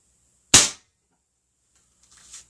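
A CO2 air gun fires a single heavy PDG pellet: one sharp, close crack, silence after, then a faint brief hiss or impact a couple of seconds later.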